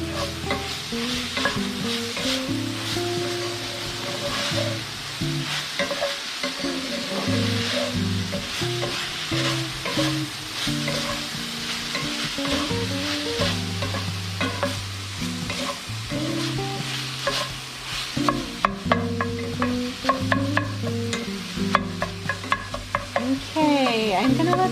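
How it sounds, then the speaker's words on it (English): Lasagne filling sautéing in a pan on the stove: a steady close sizzle with repeated stirring scrapes and clinks, plus a loud low hum running underneath, continuous and unbroken with no talking. "Okay, I'm gonna let this saute for just another minute or 2."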